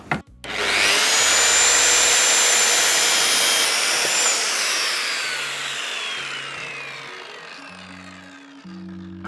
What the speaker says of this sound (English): 1250 watt circular saw.